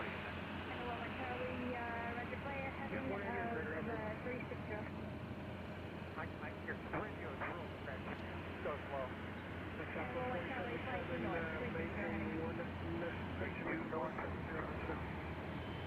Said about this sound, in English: Oh, that's not a helicopter, that's a plane.